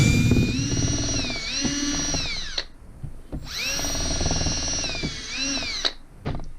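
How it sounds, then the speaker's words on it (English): A power drill with a 1/8 inch bit whines loudly in two long runs drilling pilot holes, its pitch dipping under load, with a brief pause between. "A 1/8 drill bit to make a pilot hole."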